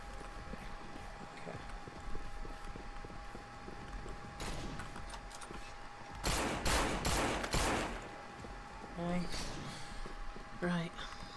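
Gunshots ring out in the zombie video game No More Room In Hell, a cluster of loud shots in the middle amid game noise, with further single reports later.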